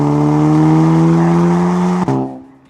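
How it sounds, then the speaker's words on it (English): A tuned VW MK7 or Audi 8V 2.0T turbo engine holds steady high revs at full throttle during a rolling launch, a loud sustained drone with a sharp pop near the end before the sound cuts and fades away. "whenever you're ready for a boosted launch,"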